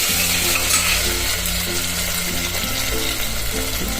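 Potatoes and ginger-chili paste fry in a pan for vagharela bhaat, giving a steady close sizzle with light stirring over continuous background music.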